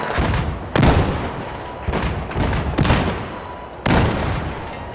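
A grenade blast in Battlefield 4 during a 5v5 defuse tournament match, heard as a string of loud, booming gunfire-like bursts, several sharp hits in rapid succession over a rumbling background.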